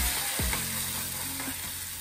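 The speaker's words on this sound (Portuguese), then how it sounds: "eu coloquei aqui o alho e o azeite pra poder temperar o feijão." Garlic sizzles steadily in hot olive oil in a pan, being prepared to season beans; a close, continuous frying hiss with faint stirring and no talking.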